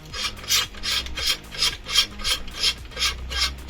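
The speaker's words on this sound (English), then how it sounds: "the best thing you can do is remove this entire emitter piece" Metal threads of a KR Sabers Master QGJ Gen 2 lightsaber emitter piece grinding as it is unscrewed: a close, rhythmic rasping in repeated short twists, about eight strokes, with no voices.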